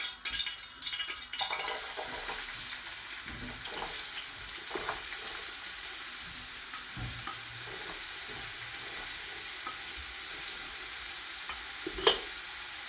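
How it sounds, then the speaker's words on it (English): Onions sizzle and fry in a little hot oil in a pot, a steady crackling hiss with light stirring scrapes throughout and a single sharp clink near the end. "you have to fry the onions for a little bit"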